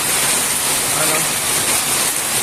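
Heavy typhoon rain pours down steadily, a dense, loud, unbroken hiss of large drops with no wind heard.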